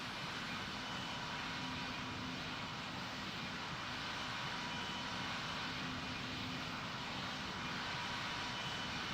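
An airliner takes off in the Pilot Training Flight Simulator game, heard as a steady, faint, even jet-engine roar with no break.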